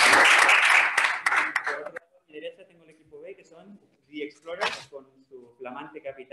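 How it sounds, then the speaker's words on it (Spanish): Brief applause from a debate audience honoring the first team fades out within two seconds, followed by scattered speech and quiet room sounds. "merecen un aplauso ese primer equipo"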